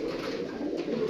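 Pigeons cooing in a loft where a single female has been released among the males, a soft continuous low warble close by with no talk.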